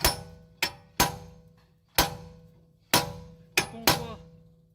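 Sharp metallic hammer strikes loosening a wheel bearing on a Dodge Journey, six distinct ringing blows at uneven intervals, loud and close, each decaying quickly.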